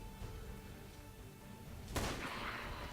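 A single rifle shot rings out in a video game, a sudden loud crack followed by a lingering rumbling tail over a low background hum.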